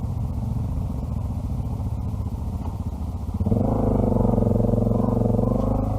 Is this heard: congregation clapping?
no